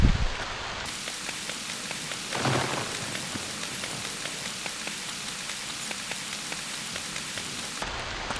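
Steady rain in the video game Stranded 2 hisses continuously with a soft rumble of thunder early on, an even, enveloping downpour with no voices.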